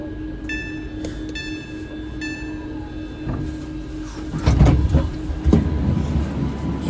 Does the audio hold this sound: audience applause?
no